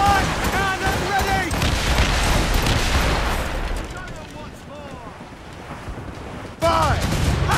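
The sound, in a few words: ship cannon fire in naval battle film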